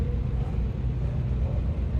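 Race car engines idle together on the starting grid before a rolling start in a racing video game, a steady, dense low rumble holding at even loudness throughout.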